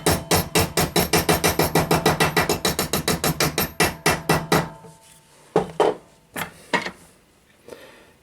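Rapid, steady hammer blows ring out as boiler plate is beaten down onto a former, about twenty evenly spaced metallic strikes, loud and close, then a pause followed by a few slower, scattered knocks.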